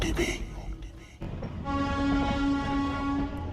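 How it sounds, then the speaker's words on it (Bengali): The Ajmer Superfast Express rumbles as it leaves Sealdah at night, then a loud, sustained horn blares over the steady rolling noise. "এই মুহূর্তে আমাদের train Ajmer superfast express Sealdah থেকে রাত্রি দশটা পঞ্চান্ন মিনিটে ছেড়ে দিল"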